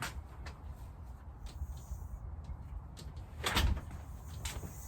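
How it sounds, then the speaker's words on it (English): A door closes in a home during front porch decorating, a soft thud and rattle near the end of a quiet stretch of faint room noise. "And let me close this door."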